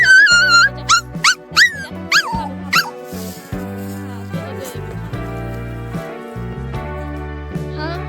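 A puppy's high yelps and squeaky whimpers come in quick bursts at the start, then soft whines continue over a steady background tone.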